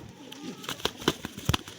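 A pigeon being handled up close gives a few soft coos and rustles. Brief short bursts mix with faint handling noise.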